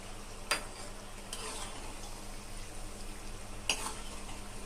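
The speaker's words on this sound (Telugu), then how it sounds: "సిమ్లో పెట్టుకొని వేయించుకోండి" Maida biscuits fry on a low flame in a pan with a soft, steady sizzle and bubbling, close by, broken by two sharp metallic clicks of a utensil against the pan.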